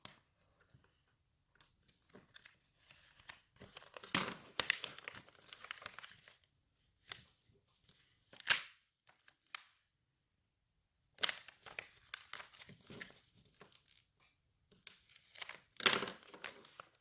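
Heat transfer vinyl being peeled off its backing sheet for a T-shirt, faint intermittent crinkling and tearing rustles in short irregular bursts with quiet gaps between.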